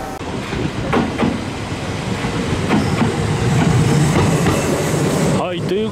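A Kintetsu local train runs on rails, a steady loud rumble with rhythmic wheel clicks and rattling from inside the car, and a brief squeal near the end.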